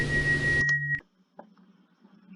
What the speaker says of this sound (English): Right, now let's open the doors.